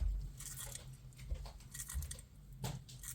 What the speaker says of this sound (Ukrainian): Чуєте, як вона чавкає?